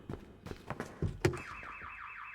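In the No More Room in Hell 2 video game, a car alarm starts blaring after a few thuds and footsteps, its rapid warbling siren repeating steadily at moderate distance for the last second of the clip.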